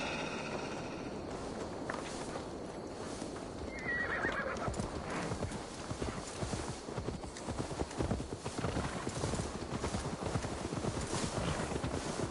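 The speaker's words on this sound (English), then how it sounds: "Now to deliver Magni his horse." Horse hooves clip-clopping steadily alongside repeated neighing and whinnying in the video game Assassin's Creed Valhalla, the hoofbeats continuous and fairly close throughout, with no talk.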